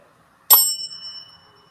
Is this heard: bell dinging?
yes